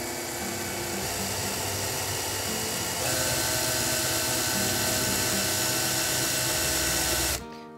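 A small power drill whines continuously at high speed drilling through an old plastic bank card, its pitch shifting slightly as it bites, then stops abruptly near the end.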